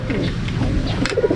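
A racing pigeon coos close by in a short burst of low, throaty, rolling calls, loud and near, with faint background noise.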